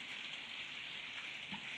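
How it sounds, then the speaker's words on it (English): Rain falls outside as a faint, steady hiss of drops, continuous and distant, with no talk. "You can probably hear it's raining again."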